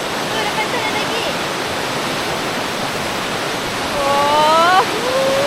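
Rushing river water where two rivers split, a steady broadband roar throughout, with a brief tonal whistle-like sound near the end over the flow.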